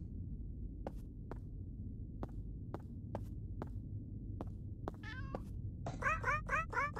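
A cat lets out several short, clear meows near the end, after a run of sharp, sparse clicks over a low, quiet background hum.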